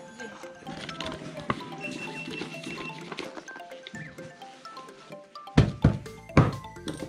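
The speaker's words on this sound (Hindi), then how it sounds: "ये छोटे छोटे आपको घोड़े आ रहे हैं, देखो ये सारे अभी ऊपर से आ रहे हैं एक्चुअली।" Small horses walk down a mountain path in Mustang, Nepal, their hooves thudding and clopping irregularly, with several loud, close hoof knocks near the end over a busy outdoor background.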